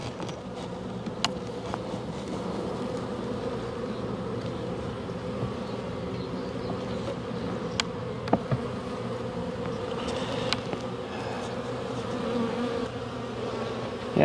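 Honeybees buzzing in an open hive during a spring colony inspection, a steady close drone that stays even throughout, with occasional small knocks and clicks from handling frames.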